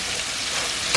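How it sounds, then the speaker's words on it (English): Brown sugar and butter stirred in a hot pan for caramel, a close, steady sizzle with soft stirring scrapes throughout. "I need to mix up that brown sugar with the butter."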